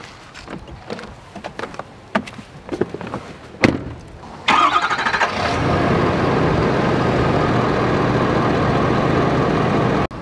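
A pickup truck's engine starts after a few clicks and thumps near a fifth wheel RV trailer, then settles into a steady, loud idle running close by for the rest of the stretch.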